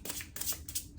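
A deck of tarot cards being shuffled in several quick riffling bursts, close and soft, with no talking.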